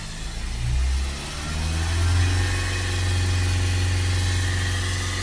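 A diesel car engine revved and held steady at about 3000 RPM during a particulate-filter pressure check, a loud continuous low drone that rises and then stays level throughout.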